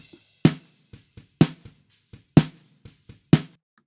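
Snare drum top microphone in a mix, now shaped with a couple of EQ cuts and one slight boost: four strong, crisp backbeat hits about a second apart, with light ghost notes between them.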